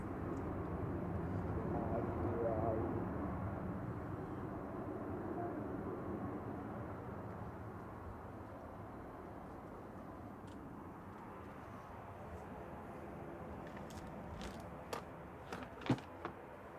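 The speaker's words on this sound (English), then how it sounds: "I hear a noisy prop." Propeller aircraft drones at Manchester Airport, a moderate rumbling engine noise that gradually fades, followed by a few faint clicks and knocks near the end.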